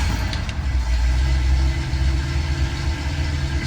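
A 1963 Ford Galaxie 500 XL runs at idle close by, its engine a low, steady rumble with a faint pulsing throb that stays even and unbroken throughout.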